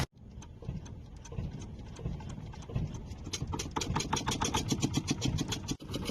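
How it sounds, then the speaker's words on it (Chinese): A fishing boat's engine starts at dusk and settles into a steady, rhythmic clattering run, close and moderately loud, with sharp ticking knocks growing stronger over time. "准备把机器启动一下就出发过去拉网"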